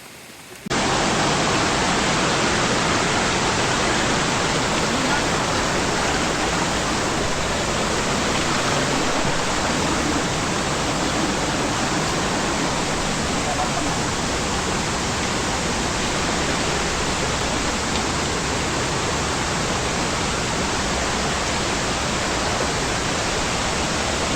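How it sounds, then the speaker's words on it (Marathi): Heavy monsoon rain pours down steadily on a trekking trail near Ghangad and Sudhagad, a loud, dense and unbroken hiss that sets in after a brief pause and holds at full strength. "आता मी मोबाईल आत ठेवतो पाऊस आलाय"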